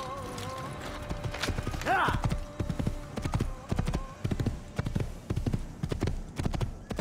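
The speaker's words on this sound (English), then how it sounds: "Okay, that's a horse." Clip-clopping hooves of a horse in Assassin's Creed, with a neigh near the two-second mark, over a steady run of game sound with loud, evenly paced hoofbeats throughout.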